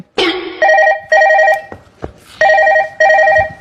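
A telephone bell rings in loud, close bursts of rapid trilling, with several rings separated by short pauses.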